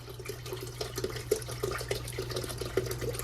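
Bottled water pours into a Rubbermaid pitcher with a burgundy top for peach tea, a steady close trickle and splash with small gurgles over a low background hum.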